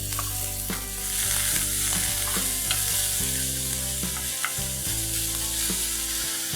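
Garlic and onions fry in oil on a tawa with a loud, continuous sizzle close up, broken by a few sharp clinks and scrapes of stirring, and no voices.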